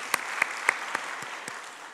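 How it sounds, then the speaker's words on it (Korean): A church congregation claps during a Sunday worship service, about six separate, evenly spaced claps fading slightly toward the end in a reverberant room. "그런 하나님께 영광의 박수를 주면 영광의 박수"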